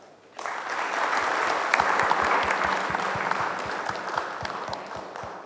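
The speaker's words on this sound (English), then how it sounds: "So let's all give them thunderous clap." An audience at a global micronutrient summit in India breaks into applause for session speakers, a sudden full burst of many hands with a few sharp individual claps standing out as it continues.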